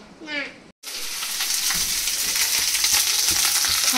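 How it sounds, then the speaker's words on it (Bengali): Neem leaves fry in a pan. A brief voice comes first, then after a short gap a loud, continuous sizzle and hiss with faint stirring knocks runs to the end. "এখন নিম পাতা ভাজা হচ্ছে"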